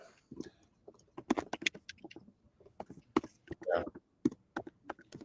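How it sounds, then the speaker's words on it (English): Loud, irregular clattering keystrokes in quick bursts, with people talking and laughing over them close by. "No one types louder than Rocco"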